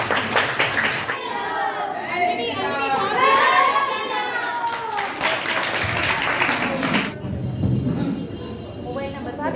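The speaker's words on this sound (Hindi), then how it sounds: "समीक्षा अग्रवाल जी के लिए जोरदार तालियां।" An audience at a devotional women's gathering in Lakhimpur Kheri claps and cheers loudly, the applause swelling over overlapping chatter and children's voices, then tapering as speech resumes.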